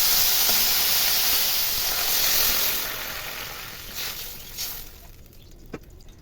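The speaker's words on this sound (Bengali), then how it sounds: "এবার আমি এর মধ্যে জল ঢেলে দেব।" Water poured into a hot pan of taro fried with spices sends up a loud, steady steam hiss and sizzle that gradually fades, with a few faint pops near the end.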